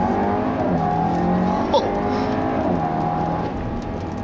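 A 2017 Audi A4 accelerates smoothly, its engine note climbing steadily and close by with tire and road noise underneath, while a brief vocal exclamation cuts in midway.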